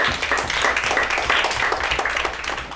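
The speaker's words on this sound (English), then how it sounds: "Clap for yourself" Children in a primary classroom clap for themselves, a loose, uneven patter of small hands with distinct individual claps scattered through a moderately quiet burst.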